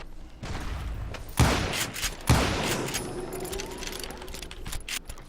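Ghost bullets gunfire in the Western shooter Call of Juarez: Gunslinger, two sharp close gunshots about a second apart, each with a ringing tail, over a faint game ambience.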